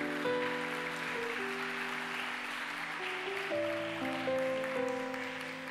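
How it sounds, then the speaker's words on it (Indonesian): A conference audience applauds steadily, a dense wash of clapping throughout with sustained tones underneath, no talk over it. "boleh tepuk tangan terus"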